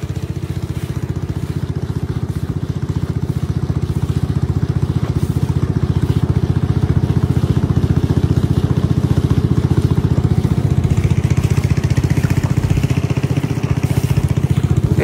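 Small rented boat on Tanguar Haor with a steady, loud engine drone that chugs on unbroken at close range throughout, with no voices.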